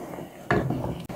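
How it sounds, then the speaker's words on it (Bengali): Black grape jelly being stirred in a pot, a brief close scrape of a spoon against the pot followed by thick, soft rubbing as the mixture moves. "নেড়ে দিচ্ছি।"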